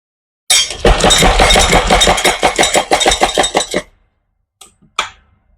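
A sewing machine stitches gathered light pink multicolour dress fabric, a rapid steady mechanical clatter running for several seconds, then stopping, followed by two short brief bursts.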